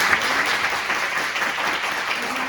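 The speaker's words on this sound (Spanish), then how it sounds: "Vamos fazer uma salva de palmas." An audience bursts into dense, steady applause after a lecture on citizen security in Latin America, sustained clapping filling a hall.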